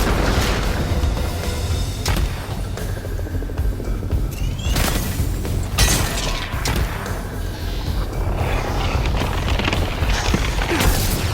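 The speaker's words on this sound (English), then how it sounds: "Thunderbolt missiles away." Thunderbolt missiles exploding in the Iron Man VR video game: a dense run of loud, heavy booms and crashing blasts that stays steady throughout, with sharp impacts piling on one another.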